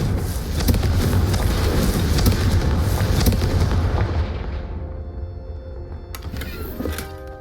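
The Confringo blast spell from Hogwarts Legacy, a loud booming explosion with a rumbling tail that slowly fades over several seconds before a brief bright chime-like sound near the end.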